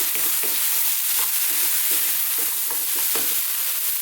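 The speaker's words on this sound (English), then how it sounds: "on this kind of fairly lively heat, throw this around for another couple of minutes, get some flavours happening" Spices frying and being stirred in a pan over fairly lively heat for black urad dal, with a steady sizzle and repeated soft scraping strokes close by, no talking.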